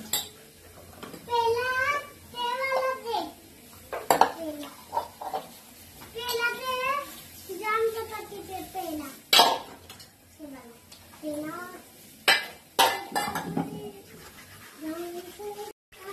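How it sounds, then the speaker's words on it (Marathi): Dishes, pots and cutlery being washed at a kitchen sink: scattered clinks and clatters of metal and crockery, close by, mixed with running water and heard under frequent talking voices. "तर चला आता मी भांडी घासते"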